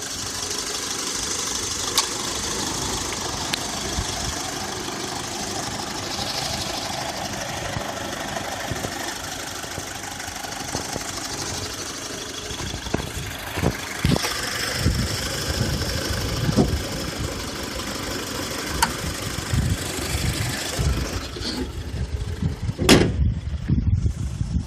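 2014 Honda Civic Si engine idling with exhaust note, a moderate steady rumble close by, with a few knocks and clunks toward the end, no talk.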